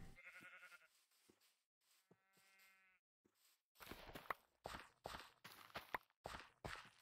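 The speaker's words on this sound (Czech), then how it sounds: "Ovce máme." Sheep bleating in the video game Minecraft, short harmonic animal calls early on, followed by a run of loud, rhythmic footstep-like thuds close up.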